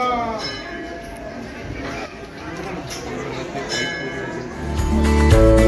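A temple bell rings among a chattering crowd at Siddhapith Mahalakshmi temple in Shegaon, its tones blending with busy voices and background clinks before a low rumble swells near the end.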